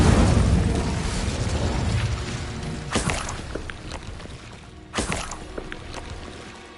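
Bombarda and Confringo spell blasts from the Hogwarts Legacy video game: dense roaring bursts up front, then two sharp explosive cracks a couple of seconds apart, each trailing off, with no talk.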